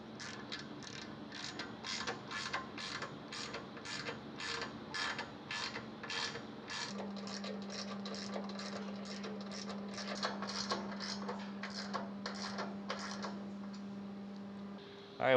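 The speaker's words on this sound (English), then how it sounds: "you can go ahead and tighten all the bottom bolts" A ratchet wrench tightens the bottom bolts of a rock slider on a 5th-gen Toyota 4Runner, clicking in a steady rapid series of close, crisp ticks that continue throughout.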